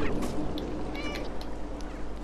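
A cat in the video game Stray meows a few times over a thick background of game ambience and music, the cries fairly clear but not dominant.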